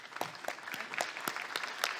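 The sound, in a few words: audience applause for the panel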